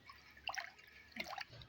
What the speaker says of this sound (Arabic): قلبت الملح